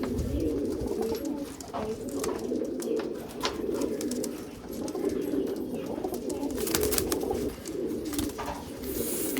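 Pigeons in a home loft, including Madrasi pigeons kept for sale, coo steadily and close up, a dense continuous murmur of overlapping calls with no talking.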